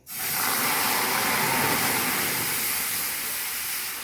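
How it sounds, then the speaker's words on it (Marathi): Water is poured into a hot kadhai and bursts into a loud, sustained steamy hiss. The sizzle rises at once, holds for several seconds, then eases slightly toward the end, with no talk over it. "प्रथम आपल्याला प्रथम पाणी टाकायचंय आहे कढईमध्ये"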